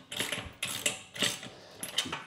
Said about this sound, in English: I'll grab it with a wrench and just use a ratchet to get them tight.